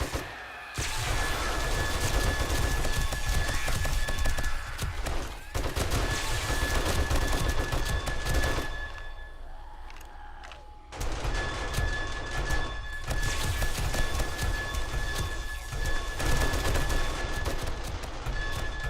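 Sustained bursts of gunfire in 7 Days to Die, aimed at a bomber zombie from a turret stand, rattle loud and dense for long stretches with a brief lull midway before the shooting resumes.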